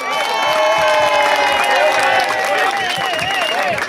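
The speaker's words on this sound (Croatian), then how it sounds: "A daj jedan veliki aplauz za Antu Petrovića" Audience at a Krčevina Cup 2011 awards ceremony clapping and cheering for referee Ante Petrović, a dense crowd roar with voices shouting over the applause throughout.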